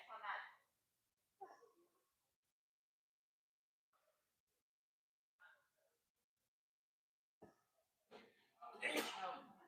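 A person sneezes loudly and close at the end, with scattered talk and small movement sounds earlier in a quiet room during a college ice hockey broadcast.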